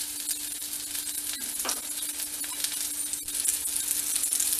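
Raw mango pieces sautéing in a pan for drumstick mango sambar, a steady close sizzle with occasional scraping clinks of a spoon, no talking.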